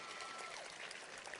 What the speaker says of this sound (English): you could clap for them, yes